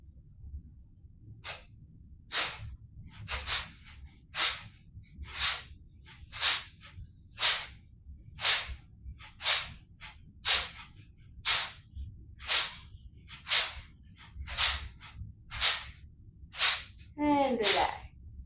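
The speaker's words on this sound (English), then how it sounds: "it's a cleansing process called Kapalbhati. So it is active exhalation process." A person performs Kapalbhati, forcefully exhaling through the nose in a steady series of sharp, close bursts about once a second, with a brief sound near the end.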